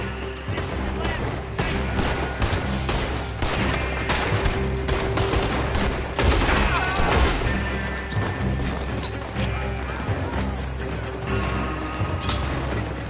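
Guns blaze in a Red Dead Redemption II firefight at Beaver Hollow, with sharp shots, crashes and mechanical clatter piling up steadily, partly under shouted in-game voices.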